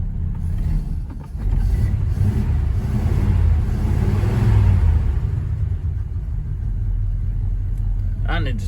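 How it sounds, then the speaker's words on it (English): A 1951 Ford engine idles with a steady, close, low rumble that rises slightly in the middle, while people talk over it. "I think it's idling a touch too high now"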